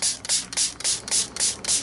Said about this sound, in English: And I want to spray the crap out of them.